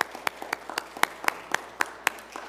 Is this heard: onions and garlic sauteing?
no